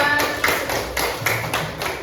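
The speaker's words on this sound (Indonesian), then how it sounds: "Tepuk tangan buat kelompok 2." Audience clapping for a student group after their class presentation, a brisk run of close, uneven claps lasting about two seconds with no talk.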